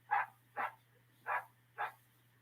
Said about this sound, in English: Some good guard dogs over there.